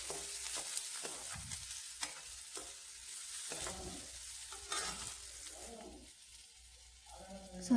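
Chopped onions fry with turmeric in a pan under a steady, close sizzle. Repeated stirring scrapes punctuate it, softening toward the end.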